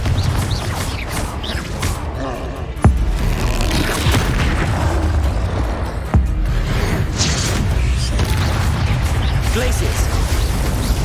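Blasting spell explosions in the video game Hogwarts Legacy, two sharp booming bursts amid a dense, loud bed of combat effects and rumbling, with a voice speaking throughout.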